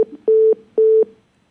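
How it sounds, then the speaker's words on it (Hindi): Telephone tone after a TV news-debate call disconnects: two loud, steady beeps of equal length with a short gap between them, clean and alone, fading to silence. "मथुरा जी का शायद फोन डिस्कनेक्ट हो गया"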